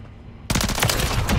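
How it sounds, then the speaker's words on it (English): A sudden burst of rapid automatic gunfire erupts in Modern Warfare III multiplayer, loud and continuous after a brief quiet moment. "I'm getting shot"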